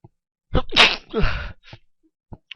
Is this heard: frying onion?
no